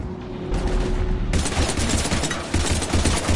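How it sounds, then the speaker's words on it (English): Heavy, sustained automatic gunfire in the Mass Effect 3 video game, a dense loud barrage of rapid shots with booming low-end impacts that intensifies partway through and continues without pause. "We're taking heavy fire."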